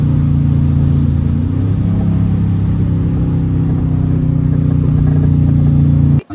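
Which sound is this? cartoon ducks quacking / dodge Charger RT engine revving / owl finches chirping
dodge Charger RT engine revving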